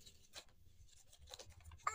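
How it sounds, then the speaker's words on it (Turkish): A pen scratching across paper at a home desk, with soft irregular strokes and rubbing close by, quiet and steady, a sharper scrape near the end; no voices. "Baba yazı yazıyor."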